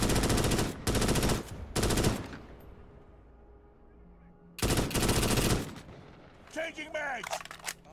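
Three loud bursts of automatic gunfire open a fight in the Starship Troopers: Extermination video game, followed by a quieter gap, another long close burst, and then shrill creature-like squeals at the end.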